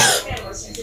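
A short throaty cough, a couple of close, abrupt bursts within a second, coming right after speech.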